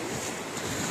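Sea waves washing ashore at night under a rising moon, a steady broadband wash with wind noise, continuous and fairly loud throughout with no voices.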